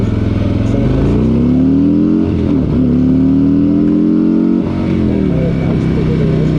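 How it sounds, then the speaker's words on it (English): A completely stock Harley-Davidson motorcycle accelerating from 0 to 60: a loud, close engine roar climbing through gears, with pitch rising and dropping at each shift. "This is on the Revival completely stock motorcycle."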